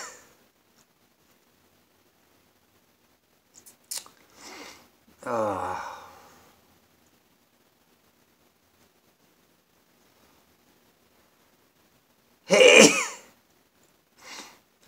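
One person goes through a sneezing fit, with scattered sniffs and breaths leading into a loud sneeze, a long pause, then another strong sneeze and a smaller one near the end, all close up in a quiet room.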